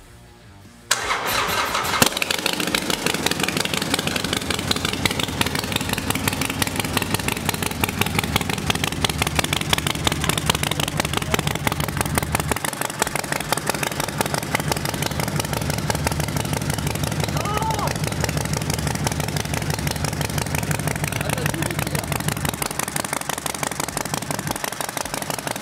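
A Harley-Davidson Sportster 1200 Forty-Eight with a Stage 1 setup and a freshly flashed map cranks and fires after a brief pause. It then settles into a loud, steady, close-up idle that runs throughout.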